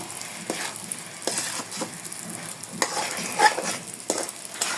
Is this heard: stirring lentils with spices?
yes